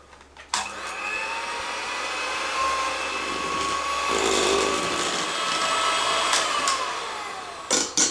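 An electric mixer whirs steadily as it beats a cream cheese batter made with Philadelphia cheese, its motor whine holding close and constant, with brief clicks at the start and end.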